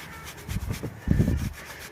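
Short bursts of close rubbing and scrubbing on the rusty frame of an old 1994 Kona Lava Dome bike, two quick rounds of strokes, with no voices.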